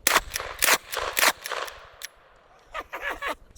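A pistol fires .380 rounds at targets in a rapid string of sharp, loud shots, roughly nine cracks in two bursts separated by a short pause, with faint ringing between them.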